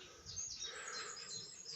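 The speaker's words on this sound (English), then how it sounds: "I don't know if you can hear that noise, but I think it's birds on the nest" A brood of birds on a nest near a bridge makes continuous, busy high-pitched chirping, fairly faint and steady throughout, with no voices over it.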